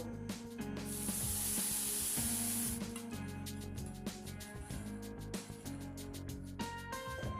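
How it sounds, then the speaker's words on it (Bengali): Spice paste sizzles and sputters in hot oil while being sautéed for Bengali bhoger khichuri, with a burst of loud hissing early on, then steady frying and scraping under background music. "এই মশলাটাকে ওর মধ্যে দিয়ে খুব ভালোভাবে কষিয়ে নেবো"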